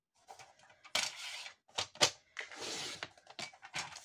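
Scissors cut paper strips for a craft pouch, a run of close, crisp snips and rustles in uneven bursts with short pauses between, no voice heard.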